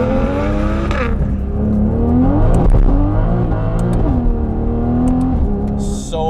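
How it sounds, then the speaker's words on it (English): A big-turbo Toyota Supra running on E85 accelerates hard with tire spin, its loud engine note climbing and dropping through repeated pitch sweeps at close range. "So much tire spin."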